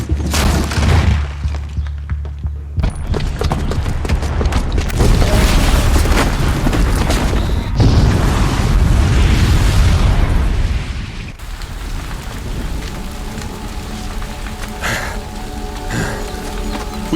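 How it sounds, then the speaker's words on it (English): A bomb blast in Horizon Zero Dawn gives a deep, rumbling boom with a long crackling, debris-like roar that stays loud for several seconds before easing into quieter game ambience. "Because the booby trap on the bomb downstairs is gonna get set off."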